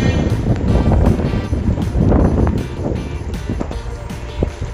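Strong wind buffets the microphone in a continuous loud roar, with gusts rising and falling and faint background noises.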